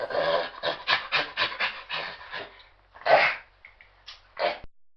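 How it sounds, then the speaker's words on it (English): A chimpanzee gives a rapid series of breathy, panting calls in rhythmic bursts, then a few louder, separate calls after a short pause. The calls are close and clear, with no talking. "Chimpanzee."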